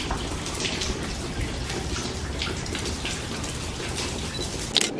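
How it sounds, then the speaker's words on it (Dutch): Steady rain falling in Aruba, a dense broadband patter with drops striking a surface close by, continuous for the whole stretch with one brief sharper hit near the end. "Maar ja, het regent momenteel eventjes."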